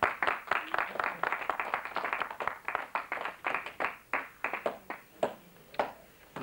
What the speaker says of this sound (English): certainly a round of applause from us all